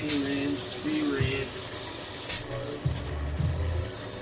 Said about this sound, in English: You're supposed to rinse it. Alright, rinse.